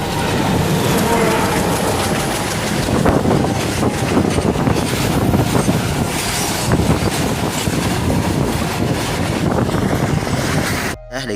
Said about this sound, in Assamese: দেখিছে ভিডিঅ'ৰ মাজত ট্ৰেইন আহি গৈছিলে